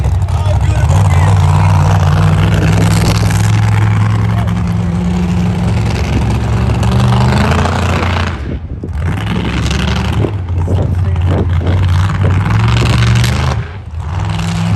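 A monster truck engine rumbles loud and steady through a show run at a Monster Truck Racing League event in Fishersville, Virginia, with a deep drone and brief dips under an announcer's voice.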